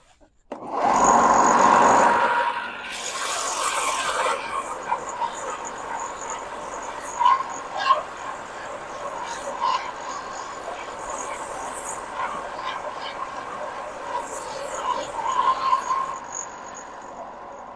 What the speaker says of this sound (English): I'm going to show you how I make it nice and rounded with the belt sander.